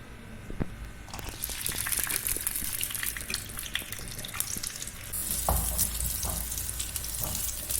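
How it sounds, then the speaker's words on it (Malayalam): Cashews and raisins frying in ghee in a pan, a steady close sizzle with scattered crackles and pops, growing louder about midway, with no talking. "കുറച്ച് നെയ്യ് ഒഴിച്ചിട്ട് അണ്ടി മുന്തിരി വാട്ടുക"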